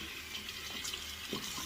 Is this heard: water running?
yes